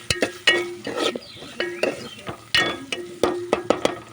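Ginger garlic paste frying in a pan for a mutton and ridge gourd curry, with repeated sharp stirring clacks of a utensil against the pan over a light sizzle.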